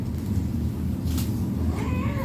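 A cat meows once or twice, fairly faint, over a steady low background hum, with no talking.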